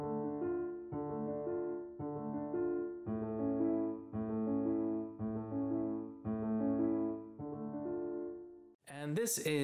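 The upper subsidiary left-hand part from the last movement of Beethoven's Tempest Sonata plays on piano as steady repeated notes, followed by a brief bit of speech at the end.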